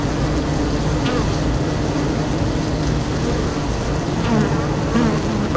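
Worker honey bees flying in and out of a hive make a dense, loud, continuous buzzing hum, with a few individual bees passing close.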